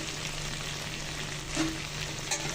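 Tandoori chicken sizzles steadily in a pan on a stovetop while oil is brushed over the top, a dense, close frying hiss with a faint scrape of the brush and no voices.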